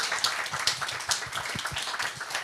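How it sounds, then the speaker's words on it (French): An audience at a French-language talk applauds, a quiet patter of scattered clapping at a moderate distance, with a few low thumps mixed in. "On peut l'applaudir."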